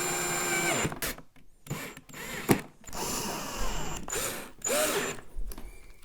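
A power drill drives number 10 screws through the sides of a Teamson Kids Little Chef Florence toy kitchen, in several loud close whirring bursts separated by short pauses, with the pitch rising and falling as each screw seats.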